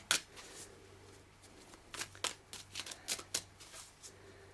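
Tarot cards being shuffled by hand in a series of quick papery riffles and slaps, close and fairly quiet, bunching into a denser run of flicks toward the middle with no talking.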